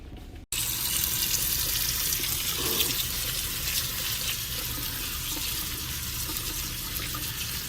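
Strawberries being washed under a running kitchen tap, with a steady, fairly quiet rush of water that begins after a brief moment of silence and flows on continuously without speech.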